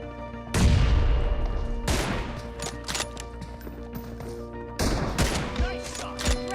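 Gunfire in the PUBG video game: loud bursts of shots opening sharply, then scattered rapid reports and a second heavy volley near the end, with a busy game soundscape running underneath throughout.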